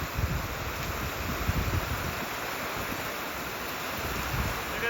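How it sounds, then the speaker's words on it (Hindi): Heavy slanting rain falls steadily outdoors, a dense, continuous broadband wash with gusty wind mixed in, loud and unbroken throughout, with no voices. "ऐसी बिल्कुल टेढ़ी बारिश जो है वो हो रही है"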